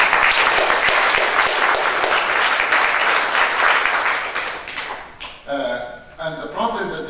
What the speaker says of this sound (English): you can clap your hands for that.